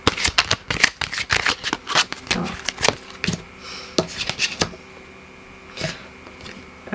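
Tarot cards shuffled by hand during a reading, a rapid run of crisp riffling snaps and slaps close up, thinning out toward the end with a few scattered card flicks.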